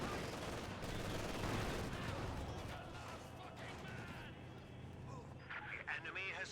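MG42 machine gun fire in a Company of Heroes 2 tournament match, dense rattling bursts and battlefield clatter running steadily under excited casters' talk.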